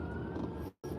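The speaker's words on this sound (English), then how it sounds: "Now they gotta all move over because this fire truck gotta get through." A fire truck siren sounds steadily amid traffic on a road near an accident scene, loud and continuous before cutting out abruptly near the end.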